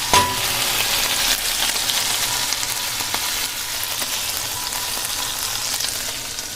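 Prawn coconut curry bubbling and sizzling loudly in a pan just as yogurt goes in, a sharp clack at the start followed by a steady, close hiss and crackle that eases slightly halfway through, with no voices.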